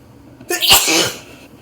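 A single loud, close human sneeze, a sharp breathy burst after a brief quiet intake, standing alone without talk.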